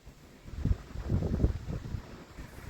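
Wind by the beach buffets through an open car window as low, rumbling gusts that swell and fade over a few seconds, close to the microphone, with no speech.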